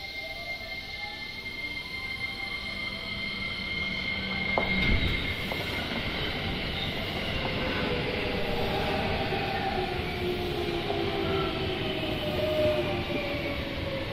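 A JR commuter train bound for Suma pulls into Shin-Nagata station, its approaching rumble swelling with whining motor tones and rail noise that rise and shift as it arrives.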